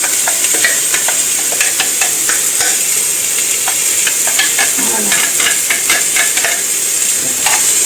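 Chopped onions and garlic fry in a pan, probably as a base for a chicken thigh blanquette, making a steady, dense sizzle and hiss broken by light stirring scrapes, with no talking.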